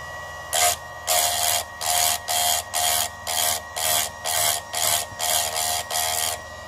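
A chainsaw grinder sharpens chain teeth in about eleven evenly spaced short grinding bursts, each a bright, loud rasp lasting under half a second, separated by brief pauses over a steady low motor hum.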